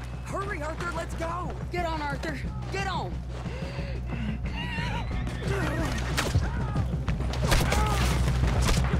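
Horses neigh and whinny in Red Dead Redemption 2 during a frantic escape, several loud rising calls in quick succession over galloping hooves and gunfire, with game characters shouting.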